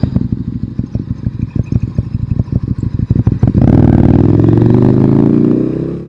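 A KTM Duke 1290 motorcycle engine, ridden on a test ride, gives a loud close burst of throttle: choppy pulsing at first, then a sustained rising rev that holds before cutting off abruptly.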